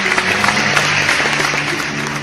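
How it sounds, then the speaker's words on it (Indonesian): A group of children claps together at a religious talk, a loud, close, continuous rattle of small hands with a faint steady hum running underneath. "anak-anak Sumedang, anak-anak Danau, pinter-pinter semuanya, tepuk tangan lah"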